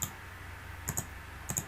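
Sharp, close mouse clicks on a website link: one tap at the start, then two quick double clicks, crisp and alone over faint room hiss.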